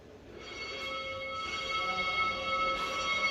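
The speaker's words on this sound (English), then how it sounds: "Well, you can hear the bell." A church bell rings in Jerusalem at the site of the crucifixion, its sustained metallic tones sounding faint and somewhat distant over a low background murmur.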